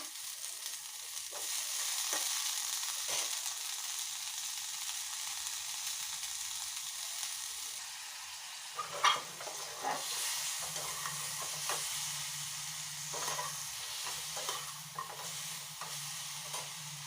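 Mung dal frying in a pan and being stirred, a faint steady sizzle broken by scrapes and taps of a spoon, with a low hum joining midway; no one speaks.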